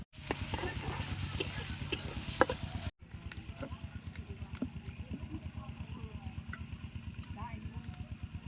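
Chopped onion, chili and garlic sizzle in hot oil in a pan, with a steady hiss, a brief break and then rhythmic stirring scrapes, faint and close.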